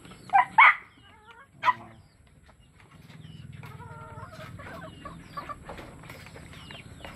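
Backyard chickens cluck and squawk, with a few loud close calls near the start followed by softer, steady clucking and low rustling.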